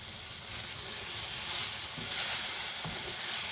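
Apples frying in butter in a hot pan give a steady, loud, close sizzle with occasional soft scrapes of stirring and no talking.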